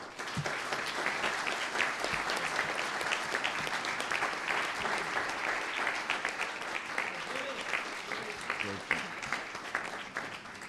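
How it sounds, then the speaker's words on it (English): At an induction event, an audience gives a long, steady round of applause for a performer, a dense crackle of many hands with scattered cheers and voices under it, lasting the whole stretch. "let's give him a round of applause"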